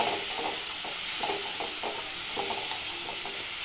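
Tomatoes stirred into a pan for a simple tomato chutney, a steady hiss of frying with soft, repeated scraping strokes of a spoon against the pan, close and continuous with no voices.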